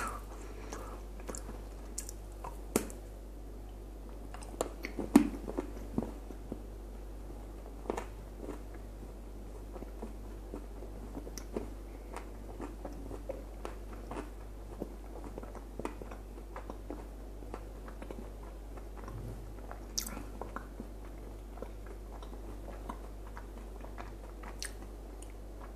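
Someone chews Babaevsky chocolate with whole almonds close to the mic, with soft crunches and wet bites scattered over a low steady hum and no talking.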